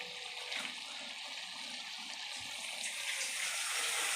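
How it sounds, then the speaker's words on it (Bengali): Water poured into a pan of cooking chicken curry makes a steady rushing splash, fairly faint and continuous, with no speech. "এবার আমি জল দিচ্ছি"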